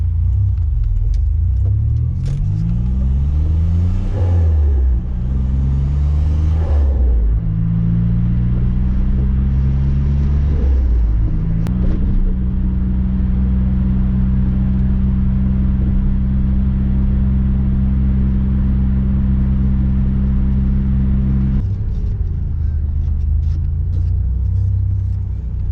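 A Nissan Navara with a VG30 engine and an extra muffler drives along, engine note rising and falling through gear changes, then holding a steady low, fairly quiet drone at cruise.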